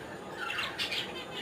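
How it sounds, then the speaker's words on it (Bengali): A pair of caged diamond doves call with a brief burst of soft, high chirping notes, fairly close over a low background hum. "এই যে এখানে আমার আছে একজোড়া ডায়মন্ড ঘুঘু"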